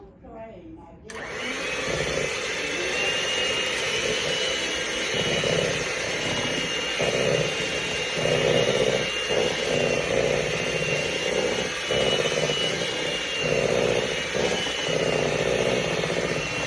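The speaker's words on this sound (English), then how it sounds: "We're going to mix the egg yolk, and the almond extract." An electric hand mixer whirs steadily as it blends egg yolk with almond extract for cookie dough, a continuous motor drone with slight load changes, running under occasional talk.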